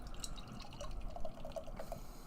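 Peticolas Peach Duke barleywine ale pours into a tulip glass, a quiet trickle with faint splashing and small bubbly drips, heard alone.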